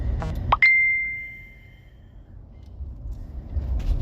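A bright electronic chime rings out once, sustaining briefly before fading, over a low background rumble.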